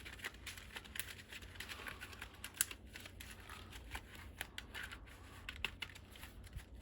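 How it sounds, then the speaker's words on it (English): A deck of trading cards is shuffled by hand at close range, giving a steady run of light, crisp riffling patters and small clicks that last several seconds without any talk. "let's shuffle the deck"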